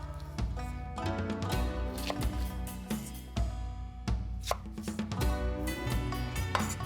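Spring onions chopped finely with a chef's knife on a board, a rapid steady run of close, sharp knife taps with no talking.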